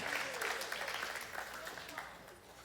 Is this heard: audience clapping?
yes